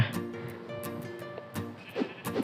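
Sheep in the Minecraft video game bleat twice in quick succession near the end, short nasal calls over a layer of game background sounds and a faint tonal hum.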